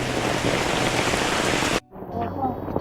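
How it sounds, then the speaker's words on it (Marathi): Heavy monsoon rain pours down in Konkan, a loud, dense, steady roar of rain on surfaces that cuts off abruptly near the end into a quieter outdoor ambience. "पाऊस किती पडतोय आपल्या इथे"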